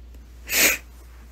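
One short, sharp sneeze bursts out from a woman close to the microphone, briefly loud against near silence.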